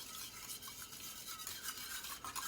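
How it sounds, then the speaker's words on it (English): A spoon slowly stirs milk mixed with yogurt, giving soft, close, wet swishing and faint scraping strokes at a very low level. "So as I stir it"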